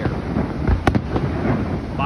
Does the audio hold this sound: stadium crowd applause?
no